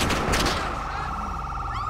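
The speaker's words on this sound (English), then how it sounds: "I'm hearing shots right now" Gunfire in GTA 5 with an LSPDFR police patrol mod: a quick, loud burst of shots at the start, then a sustained wavering electronic tone like a siren or alarm underneath.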